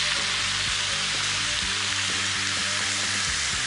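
Onions and pork fry and caramelise in a single pot, giving a steady, close sizzle with no talking over it.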